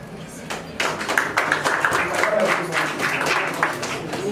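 An audience at a press conference claps, a dense patter of many hands starting abruptly and continuing steadily at moderate distance, with voices mixed in beneath.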